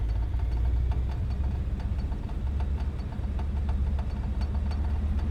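A De Havilland Beaver aircraft engine idling at low RPM after landing, a steady low rumbling drone with faint regular pulsing throughout.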